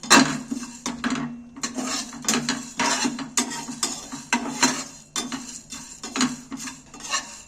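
Whole spices being dry roasted without oil in a pan, stirred with a utensil: repeated scraping and rattling strokes in a steady rhythm, close and clear, with no voices.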